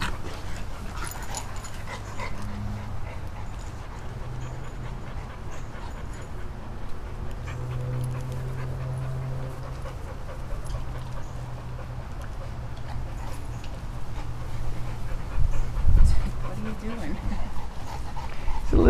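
A rescued boxer dog pants and whimpers in an unfamiliar yard, soft breathy panting with occasional thin whines close by, while a person talks to the dog over it.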